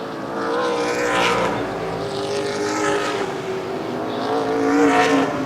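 ARCA/CRA Super Series stock cars race past at speed on the Baer Field Speedway oval, engines roaring in repeated swelling passes that rise and fade as the pack goes by.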